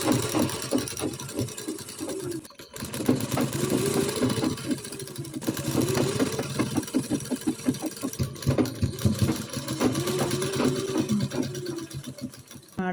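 Sewing machine stitching a prayer dress, a continuous close mechanical whir with rapid rhythmic needle ticking that runs steadily with brief pauses throughout.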